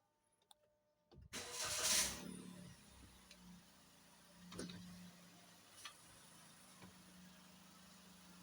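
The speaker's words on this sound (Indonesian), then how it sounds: "kita starter dulu mesinnya" A Toyota Raize GR Sport 1.0 turbo engine, fitted with a blow-off valve, cranks briefly and catches, roaring up loudly before settling into a steady idle with a few faint clicks.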